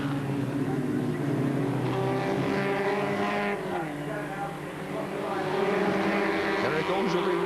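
Formula Ford race cars racing in the rain at the 1990 Formula Ford Festival, a continuous loud engine drone with shifting pitch as cars pass, under a commentator's voice.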